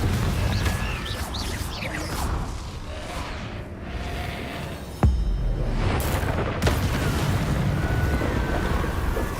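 A Confringo fire spell detonating in the game Hogwarts Legacy, a dense, roaring rumble with a sharp impact crack and a second burst, loud and sustained throughout.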